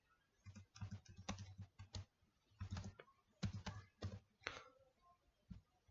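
Details being typed into a Google Sheet on a computer keyboard: quiet, close keystrokes come in uneven clusters separated by short pauses, with no talking.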